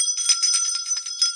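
A bright bell rung repeatedly in a spiritual energy-clearing setting, a series of clear ringing strikes about every quarter second over a steady high tone, close and fairly loud with no talk.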